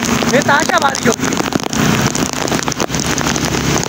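Torrential rain hammering a road in Karachi, a loud steady hiss of falling water, with someone speaking briefly over it near the start.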